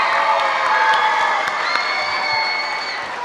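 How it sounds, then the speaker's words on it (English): A crowd at a community Paint The Plow event cheers and claps for a snow plow team, with whoops and children shouting over the steady applause. "So can we get a big old hand of applause for the Snow Warriors?"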